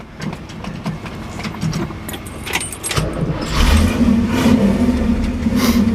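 A 1968 Chevrolet Camaro Rally Sport coupe is started after some light clinking, and the engine catches and settles into a loud, steady running rumble close by.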